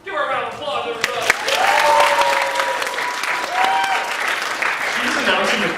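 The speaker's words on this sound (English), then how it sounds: "Give her a round of applause, everybody." Convention audience at UCon 2011 breaks into sustained applause and cheering, dense clapping filling the hall with a few whoops and shouted voices rising over it throughout.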